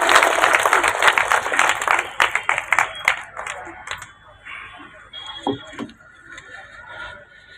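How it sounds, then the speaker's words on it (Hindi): Dense applause from the crowd at a BJP jan aakrosh rally greets an arriving speaker, then thins into scattered individual claps and dies away. A few faint voices are heard in the background. "जोरदार तालियों से आपका स्वागत करें।"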